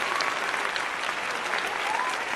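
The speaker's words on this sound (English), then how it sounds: "And so she is continuing to clap." Steady, dense clapping that continues throughout, sounding like an applauding group rather than sparse single claps, with no speech over it.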